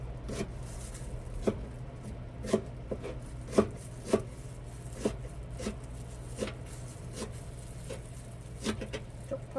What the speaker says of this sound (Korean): 쪽파를 좀 길쭉하게 이렇게 썰어서 넣고요